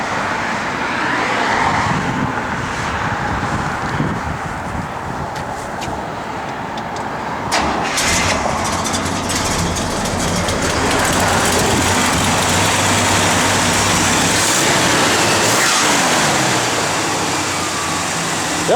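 A 1964 Buick Riviera engine runs steadily at a loud, close idle, a rumbling drone with a few sharp transient knocks and a brief surge partway through, with no voices over it.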